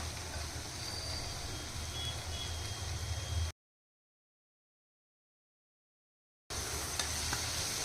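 Jaggery stirred into a raw mango curry in a pan, a soft steady sizzle with scraping stirs, broken by a few seconds of silence before resuming.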